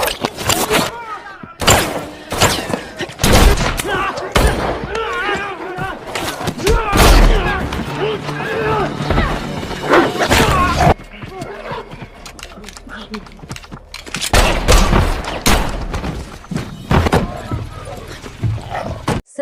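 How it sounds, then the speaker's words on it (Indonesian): Rapid gunfire from a shootout scene in a John Wick film, loud repeated bursts of shots spread across the scene, with dramatic music, effects and voices mixed in. "mereka berdua pun terlibat baku tembak dengan anak buah si pria"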